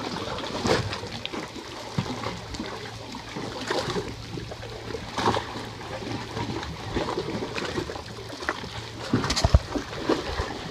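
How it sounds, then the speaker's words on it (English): Lake waves slosh and splash inside a sea cave at Pictured Rocks National Lakeshore in the rain, irregular surges and slaps with hollow resonance, fairly near and moderately loud. "The sound of waves in the cave."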